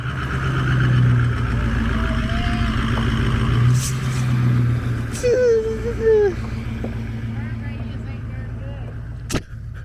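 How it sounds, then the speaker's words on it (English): A Ford engine idles steadily with a low rumble, and the throttle is blipped. Voices talk over it and there is a sharp knock near the end. "But he started it up. Yeah, it's a Ford. It might need some throttle to go."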